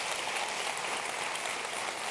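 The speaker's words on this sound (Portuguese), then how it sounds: "Vamos aplaudir a Jesus, né, pessoal?" Church congregation applauding together, a dense, steady wash of many hands clapping at close range that fills the space without pause, with no voices standing out.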